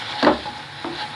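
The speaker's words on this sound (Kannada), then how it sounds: "ಚೆನ್ನಾಗಿದೆ, ಮಿಕ್ಸ್ ಮಾಡೋಣ." Two brief scrapes of a utensil stirring and mixing masala filling in a pan, close and moderately loud, over a faint background hiss.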